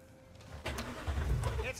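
A hot-hatch car engine in Cyberpunk 2077 cranks and catches, settling into a low, steady idle rumble with a few higher rattles. Someone talks over the engine start.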